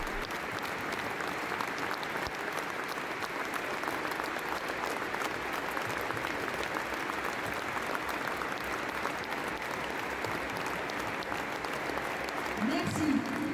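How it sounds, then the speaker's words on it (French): A crowd gives a long, sustained round of applause in memory of a deceased rugby player, dense steady clapping continuing without pause. "on fait une minute d'applaudissement"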